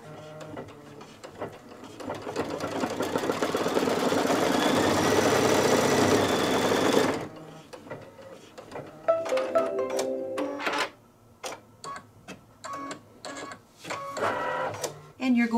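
An embroidery machine stitches the neck of a dachshund tote, running loud and steady with a dense whirring, rhythmic needle chatter for about seven seconds, then stopping into scattered clicks and handling noises.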